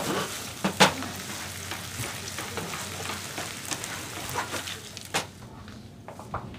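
Boiled noodles tossed into a hot pan and stir-fried, with a close, steady sizzle, scraping stir strokes and a sharp knock near the start, fading toward the end.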